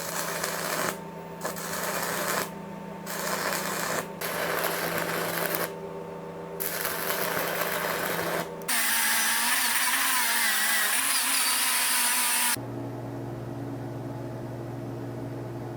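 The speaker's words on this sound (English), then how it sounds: "Let's try to weld this piece of rebar." An Everlast Cyclone 200ES MIG welder welding a piece of rebar: several short bursts of harsh crackling buzz separated by brief gaps, then a longer, hissier sputtering run, ending in a quieter steady hum.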